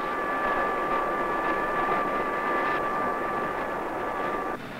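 BOAC airliner engines spooling up for takeoff, a steady loud roar with a sustained high whine, heard continuously from on board without talk.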